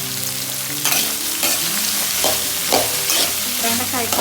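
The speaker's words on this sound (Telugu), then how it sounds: "బెండకాయ కలుపుతూనే ఉండాలి" Okra stirred and frying in a pan with garlic, steady close sizzling broken by repeated scraping strokes of a spoon against the pan, no talking.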